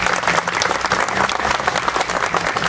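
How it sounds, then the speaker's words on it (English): A crowd at the Glendora Rotary Field of Heroes ceremony gives the LA County Fire Department a big, dense round of applause, steady and close throughout. "So let's give them a big round of applause."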